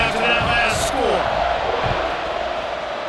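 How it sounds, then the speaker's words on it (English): A stadium crowd at a minor league American football game buzzes after a touchdown and extra point, a broad steady roar of many voices under a play-by-play commentator talking throughout. "this crowd is buzzing after that last score"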